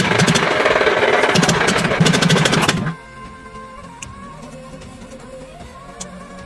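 A restored 1960s Jeep engine runs loudly with rapid rhythmic pulses for about three seconds, then cuts abruptly to a much quieter idle with faint clinks.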